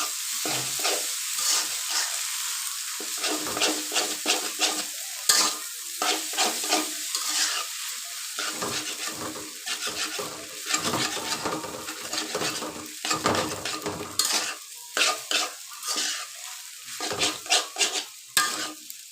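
Pasta and noodles tossed with egg in a frying pan hiss continuously as a utensil scrapes and clatters against the metal in quick, irregular strokes, loud and close.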